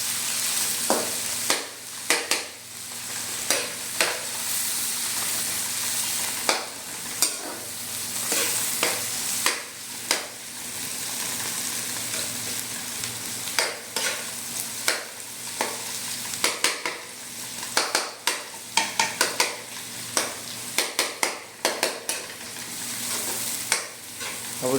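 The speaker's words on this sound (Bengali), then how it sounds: "পেঁয়াজটাকে অবশ্যই ভালো করে ভেজে নেবেন।" Onion, green chili and garlic frying in oil in a pan, with a continuous sizzle broken by frequent rhythmic spatula scrapes and taps, close and steady throughout, no talking.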